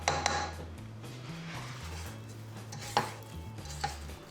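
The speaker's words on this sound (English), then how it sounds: "Give it a bit of a scrape, make sure nothing's stuck at the bottom here" Spatula scraping cookie dough off the bottom of a mixing bowl, close and moderately loud, with a steady low scraping drone broken by a few sharp clinks against the bowl.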